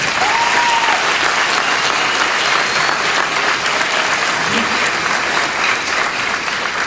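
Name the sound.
applause at commencement ceremony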